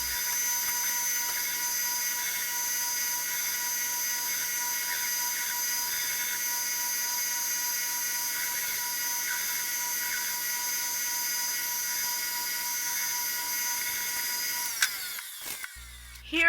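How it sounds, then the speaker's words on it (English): A belt grinder works a sword blade against the flat platen, a steady high-pitched grinding whine that holds for about fifteen seconds before breaking off into brief clatter. "Here I'm moving to the flat platen on my grinder."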